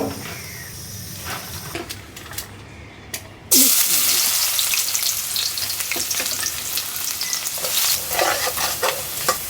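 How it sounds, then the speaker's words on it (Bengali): Rice and red lentils are fried together in a pan, and their sizzle jumps suddenly louder partway through. The loud frying then continues with stirring scrapes, after a quieter start with light clatter and brief talk. "চাল আর ডাল একসাথে ভাজবো তো এই মুসুর ডালটা এর সাথে মিলাই দিই"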